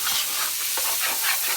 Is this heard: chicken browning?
yes